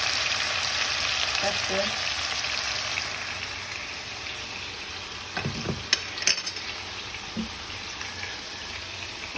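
Chicken Pad Thai sizzles steadily in a hot pan while being stirred, with a constant frying hiss, occasional scrapes and clinks of a utensil against the pan, and a brief spoken remark partway through.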